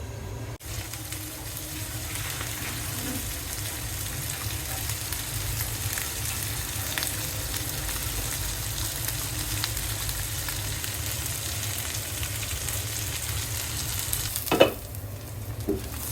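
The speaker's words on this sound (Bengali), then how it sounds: "আমি তো এগুলা কি করি, একটু ভাজা ভাজা করি।" Shredded rohu fish fries in a pan with spices, a steady, even sizzle running throughout at close range, then a single sharp clatter near the end, with no talking.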